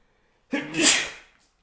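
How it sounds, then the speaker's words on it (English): A single loud, close sneeze with a sharp breathy onset and a hissing release that fades away quickly, followed by silence. "So you guys are saved from my sneeze."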